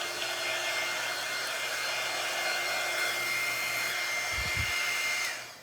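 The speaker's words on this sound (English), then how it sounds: "I'm going to go and blow this dust off again." A hair dryer blows dust off a primitive Halloween centerpiece with pokes, a steady close whirring roar that runs unbroken before cutting off at the end.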